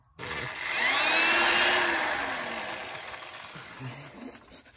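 A power drill with a new bit whirs loudly and steadily up close, its pitch sagging as it bites into a metal bolt on a BMW E36 M3, then winding down.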